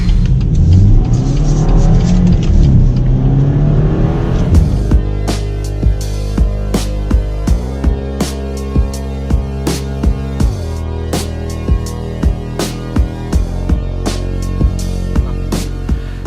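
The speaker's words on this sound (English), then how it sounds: "when you actually floor it and if you listen it from the outside, it sounds like a Mini Cooper" A Volkswagen Tiguan's engine revs up hard at full throttle, loud and close, then climbs through steady rising tones with periodic pulsing peaks as it pulls.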